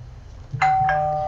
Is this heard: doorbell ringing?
yes